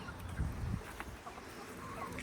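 Backyard chickens clucking faintly while a dog chases them around a garden, soft low clucks and rustling under steady outdoor background noise.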